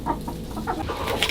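Several chickens, including young birds recently added to a backyard flock, cluck in short irregular bursts at close range with no talking.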